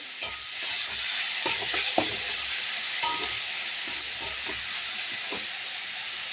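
Shrimp and pea-shoot greens with salt and turmeric are stirred in a frying pan, a steady loud sizzle and hiss punctuated by irregular scraping knocks of the spatula.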